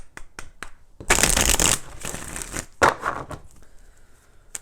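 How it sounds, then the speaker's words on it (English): Tarot cards are shuffled close up: a few light taps, then two long riffling bursts and a shorter one, followed by quieter handling. "let's go ahead and do 4 shuffles"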